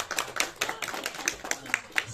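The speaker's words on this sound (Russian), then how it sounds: "Аплодисменты, пожалуйста." Scattered clapping from a small crowd at a New Year's concert evening, uneven and brief, with voices mixed in around it.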